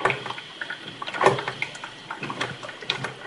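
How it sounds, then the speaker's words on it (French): Water runs from an opened kitchen tap into a sink, a steady splashing stream with small irregular drips and clinks, moderately loud and close, with no one talking. "ouvrir son robinet pour se faire un café"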